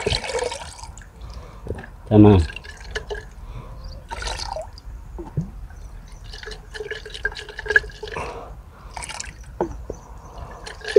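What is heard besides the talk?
mixing pesticide into water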